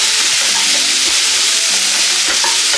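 Sliced onions frying in a pan for street-style onion Manchurian, a steady close sizzle with occasional stirring scrapes throughout.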